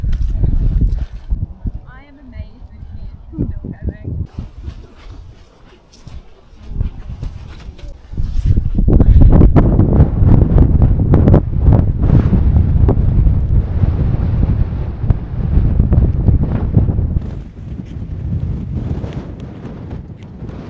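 Strong gusting wind on a Peak District hilltop ridge near Mam Tor buffets the microphone, roaring loudly in waves for most of the stretch, with a quieter start where faint voices come through.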